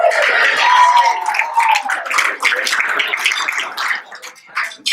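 A group claps at a school 100 Days dinner for the Class of 2018, a short burst of applause with chatter and voices mixed in, thinning and growing patchy toward the end.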